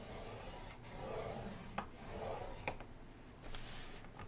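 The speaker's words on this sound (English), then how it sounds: "I'm going to bring in my scoreboard and my 10 by 14 inch piece, and on the 14 inch side, we're going to score this" A 10 by 14 inch paper sheet is scored on a scoreboard, giving soft, repeated rubbing and scraping strokes, close and fairly quiet, with a couple of small clicks between the passes.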